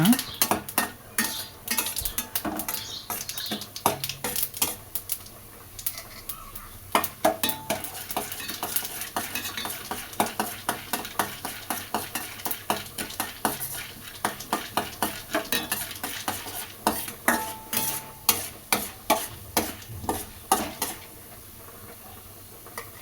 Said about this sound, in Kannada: ಅದಕ್ಕೆ ಮತ್ತೆ ಕಡಲೆಬೇಳೆ ಹಾಕ್ಕೊತಾ ಇದ್ದೀನಿ ಒಗ್ಗರಣೆಗೆ ಹಾಕ್ಕೊಂಡು ಚೆನ್ನಾಗಿ ಹುರ್ಕೊಂಡಾದ್ಮೇಲೆ